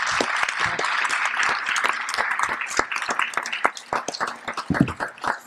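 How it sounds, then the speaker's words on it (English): An audience at a business school anniversary celebration applauds its panelists, a loud, busy round of clapping with sharp individual claps standing out, thinning toward the end. "let's have a round of applause for all our panelists."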